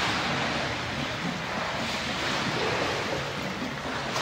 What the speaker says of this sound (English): Guys, the bubbles are starting to come out.